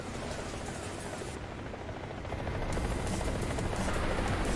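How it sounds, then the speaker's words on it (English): Helicopter rotor in War Thunder, a dense, loud, continuous thumping roar close overhead that swells slightly louder in the second half, with no talk over it. "The helicopter is making it incredibly hard to hear."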